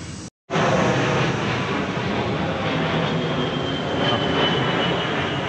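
A jet aircraft roars overhead, a loud, broad, sustained rumble that starts abruptly after a short gap and stays strong and steady to the end, with no talk over it.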